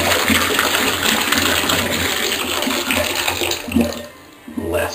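Water runs hard from a newly drilled well's pump in a loud, continuous rushing gush that eases briefly near the end before surging again.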